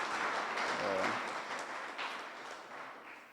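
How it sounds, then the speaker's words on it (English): Applause from an audience, fairly soft and somewhat distant, with faint voices mixed into the steady clapping. "Let's give him a round of applause."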